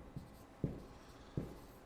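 Three short scratchy pen strokes on paper, spaced about a second apart, quiet and close in a still room.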